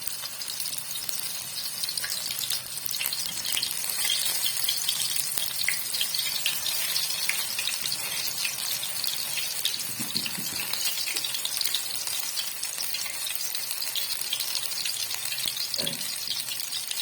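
Masala-coated fish frying in hot ghee in a kadhai over a low flame, a continuous dense crackling sizzle, close and steady throughout, with no voices.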